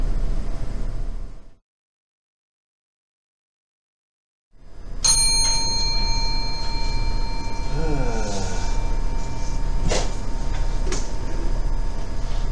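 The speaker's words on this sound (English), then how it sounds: "Sound of the bell, it is 4 o'clock." A clock bell strikes four o'clock, its ringing tones sounding clearly after a stretch of silence, then decaying over a steady background hiss.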